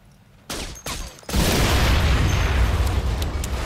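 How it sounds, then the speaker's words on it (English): A fuel depot explodes in the video game The Saboteur: two sharp bangs lead into a huge, sustained roaring blast with deep rumble that keeps going loud to the end. "It was one hell of an explosion."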